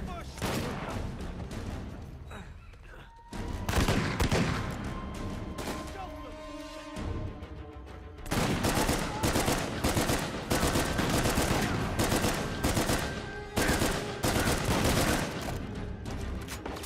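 Shotgun blasts and other gunfire in the video game Uncharted 4, heavy repeated bursts arriving in clusters across the clip, loud and close, with a brief lull partway through and voices talking underneath.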